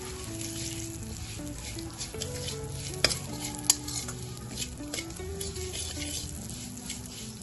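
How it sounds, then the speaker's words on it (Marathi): Split mustard seeds stirred in hot oil for a fresh raw mango pickle, soft sizzling under scraping spoon strokes with a couple of sharp clinks against the pan, fairly quiet, with faint tonal background sound. "ती पण आपण इथे तेलामध्ये घालून घेणार आहोत। आता आपण हे छान मिक्स करून घेऊया।"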